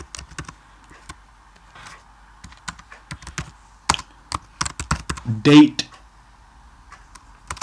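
Keys clack on a computer keyboard in short bursts and single taps while code is typed in Xcode, with a person talking intermittently over the clicking.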